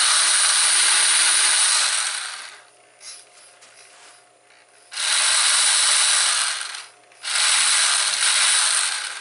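The motor and gears of a Kyosho Blizzard RC tiller conversion whir and ratchet in loud bursts, cutting off briefly twice before spinning back up, with a quieter mechanical hum during the pauses.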